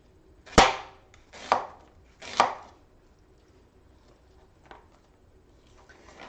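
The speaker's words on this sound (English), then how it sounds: "let's go ahead and slice some onion." A knife slices through an onion on a cutting board, giving three crisp, close chops about a second apart, followed by a few fainter taps.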